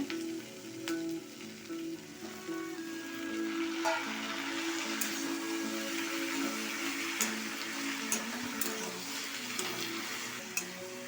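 Onion and tomato sizzle steadily in a hot pan for paneer masala, a continuous close frying hiss with occasional clinks of a spoon stirring, no voices.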